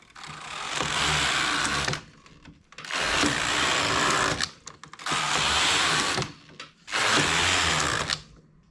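A knitting machine carriage runs across the bed and ribber, making a tubular edge. Four long, loud mechanical whooshing passes of about two seconds each are split by short pauses, close and steady, with no talking.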